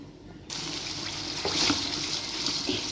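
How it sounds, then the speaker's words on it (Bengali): Carrot puree is poured into a pan on the stove for a carrot sweet, starting abruptly after a brief quiet moment as a continuous wet, rushing pour that holds steady for a few seconds. "এখন গাজরের পিউরিটা দিয়ে দিচ্ছি"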